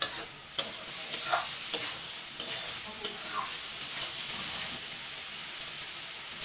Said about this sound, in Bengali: ঢাকাটা উঠিয়ে আমি দেখে নিচ্ছি আর একটু ভেজে নিচ্ছি।